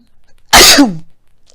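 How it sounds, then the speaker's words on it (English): A single loud sneeze bursts out after a moment of quiet, sharp and close, trailing off quickly into silence. "Oh, I'm about to sneeze, y'all."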